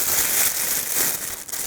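A regular plastic bag is handled and crinkled as a makeshift piping bag while tiramisu is prepared, giving a steady close rustling and crackling of plastic with no talk.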